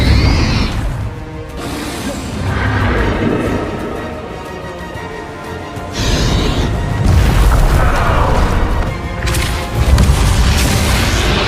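Repeated booming blasts and crashing bursts from fire and blasting spells cast in a Hogwarts Legacy battle, loud and continuous with swooshes between heavy impacts.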